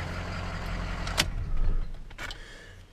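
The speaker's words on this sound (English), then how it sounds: "I'm not gonna rev this old diesel too hard, but fires right up." An old diesel engine idles after starting, a steady low rumble running throughout with a couple of brief mechanical clicks or clunks over it, heard alone without talk.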